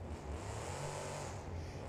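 In BeamNG.drive, a monster truck at a Monster Jam freestyle in Allegiant Stadium revs its engine hard during a slap wheelie, a steady, close, throaty roar with slight surges and no talking.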